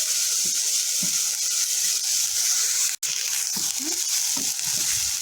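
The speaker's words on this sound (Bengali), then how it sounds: "আবারও মশলাগুলো ভালোভাবে কষাবো" Spices with garlic paste and ginger paste for a chicken curry frying in a pan, a steady close sizzling hiss with faint scraping stirs and a brief break midway, no talking.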